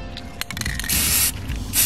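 Aerosol spray paint hissing from a can as shelves are painted, in short close bursts and one longer, steadier spray, with no voice over it.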